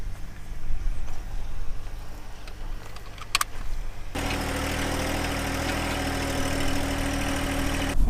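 A tractor engine runs close by with a steady low idle throb, then turns fuller and louder partway through, holding a constant mechanical drone to the end.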